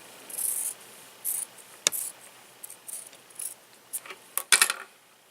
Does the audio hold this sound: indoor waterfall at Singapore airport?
no